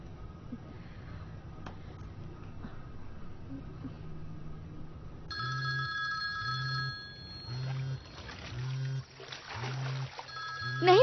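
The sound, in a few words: telephone ringing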